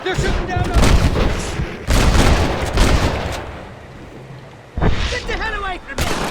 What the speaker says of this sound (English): They're shooting down on us!